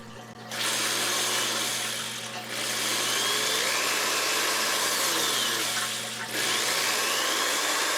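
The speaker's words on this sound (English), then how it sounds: "those acrylic shavings solidify quickly and require us to re-drill the hole once again." A power drill bores a hole in the acrylic top of an aquarium tank, a loud sustained whine that briefly dips twice before resuming, heard alone without talk.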